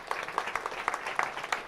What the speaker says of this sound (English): give us these guys a round of applause.